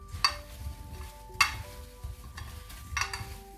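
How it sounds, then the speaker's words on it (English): Apple cobbler ingredients being mixed by hand in a bowl, soft squelching and stirring with a few faint clinks against the dish, quiet and close. "we're just going to mix everything. I'm going to use my clean hand"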